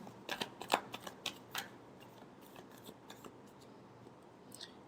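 Tarot cards being shuffled by hand: a quick burst of crisp riffling clicks and flicks near the start, then a softer, scattered rustle of cards at close range with no talking.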